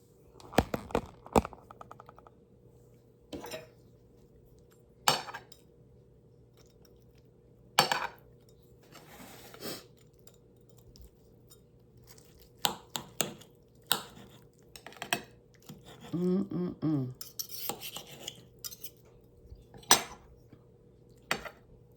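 A fork clinking and scraping on a plate while tasting freshly cooked rice, scattered sharp metallic clinks spread irregularly over a quiet background, with a brief cluster of softer handling noises midway.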